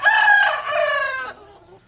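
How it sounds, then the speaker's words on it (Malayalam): A rooster in a chicken coop crows loudly and close by in one long drawn-out call that trails off at the end. "നമ്മുടെ പൊന്നപ്പനും കോഴിക്കൂട്ടിലോട്ട് വന്നിട്ടുണ്ട്."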